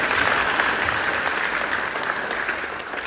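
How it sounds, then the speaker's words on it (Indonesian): A crowd at a church service bursts into loud, sustained applause, many hands clapping together in a dense, even roar that holds steady throughout with no voices rising above it. "bagus, beri tepuk tangan kepada dia."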